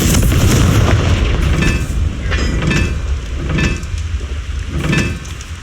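Repeated fiery spell blasts from Confringo in Hogwarts Legacy, a steady roaring rumble punctuated by about four sharp bursts at roughly one-second intervals, loud and close with no talk.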